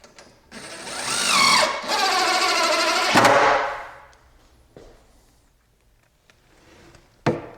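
A power driver sets screws with washers during setup of a Rikon band saw, two loud whirring bursts of a few seconds each, then quieter clicks and a sharp tap, no talk.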